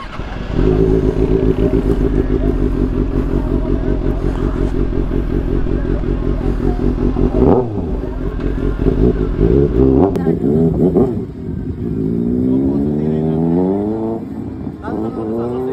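A 2024 Kawasaki ZX6R motorcycle engine pulls hard and loud with rising revs, a drop in pitch and then renewed climbing acceleration during a ride in Batangas, with wind and a voice partly under the engine.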